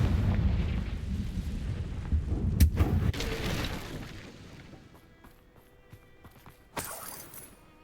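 A Confringo fire spell blasts in Hogwarts Legacy, a heavy explosive boom with rumbling low end that decays, followed a few seconds later by a second sharp burst.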